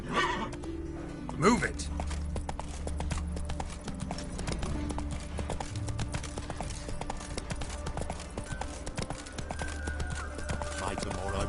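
The horse Roach in a PS4 video game gives a sharp neigh early on, then keeps up a steady rhythmic clip-clop of galloping hooves throughout, with a voice speaking over it.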